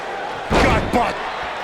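A wrestler in the WWE 2K19 video game is slammed onto the ring, two heavy thuds about half a second apart rattling the canvas, with someone commentating around them.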